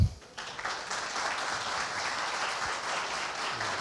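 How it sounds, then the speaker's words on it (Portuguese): An audience at a seminar on basic sanitation applauds a speaker, a steady patter of clapping from a room that stays moderately faint and even, with faint voices underneath. "Convido a vocês a receber com uma salva de palmas"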